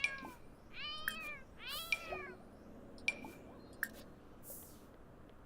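A sick pet cat in The Sims 4 meows repeatedly, several clear rising-falling meows in quick succession, then a couple of shorter calls with small clicks between, fairly quiet and with no talking.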